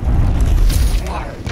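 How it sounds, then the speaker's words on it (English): Dr. Junkenstein's bombs exploding in Overwatch's Junkenstein's Revenge event, heard as a heavy low boom and rumble that fades over about a second, with a voice talking over it. "Dr. Junkenstein lobbed his bombs at the castle"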